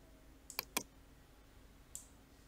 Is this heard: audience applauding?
no